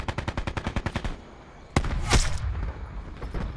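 Rapid bursts of submachine gun fire in Black Ops 4, a fast even rhythm of about a dozen close, loud shots over the first second, then a sharp crack and a louder blast amid rumbling game noise.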